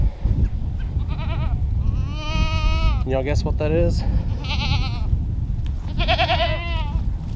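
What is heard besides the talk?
goats bleating in pasture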